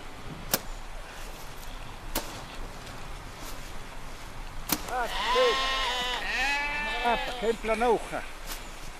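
Sheep bleat in a cluster of wavering, nasal cries in the second half, following a few sharp clicks over a faint snowy outdoor background.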